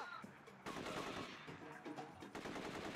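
Rapid bursts of automatic gunfire in a shooting video game, crackling volleys that come and go in dense clusters at moderate level, with no talking over them.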